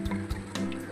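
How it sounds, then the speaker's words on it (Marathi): Water poured into a pot of cracked wheat daliya with vegetables, a short, close splashing burst of about one second with no voices. "तर आपण यातच पाणी घालू।"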